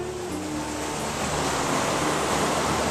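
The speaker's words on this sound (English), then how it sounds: "I've got water coming down this inside bend to a certain point." River water rushing down an inside bend, a continuous broadband roar of flowing current, steady and close, with no voices over it.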